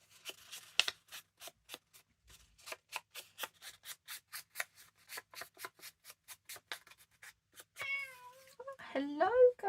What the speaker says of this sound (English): My cat has come to say hello.